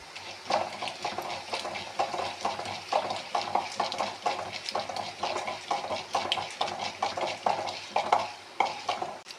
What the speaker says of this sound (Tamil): எண்ணெய் காய்ந்தவுடன் கொத்தமல்லியை தட்டி வதக்கணும்.